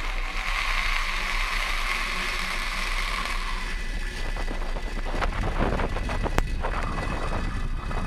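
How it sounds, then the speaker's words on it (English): A SpaceX Falcon 9 rocket lifting off, a loud broad roar that holds steady and then breaks into crackling, rumbling bursts as it climbs, with no voices over it. "lift off of the Falcon 9."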